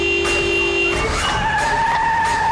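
A car skids with loud, tonal tire squeals sliding and shifting in pitch over a steady engine roar, while it is driven recklessly in a TV crime drama scene.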